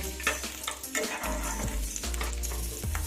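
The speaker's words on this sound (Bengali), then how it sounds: "কাঁচা লঙ্কা রসুনটাকেও কিন্তু আমি ভেজে নেব" Garlic cloves and green chillies frying in hot oil, a continuous crackling sizzle with occasional spoon stirs and pan knocks close by.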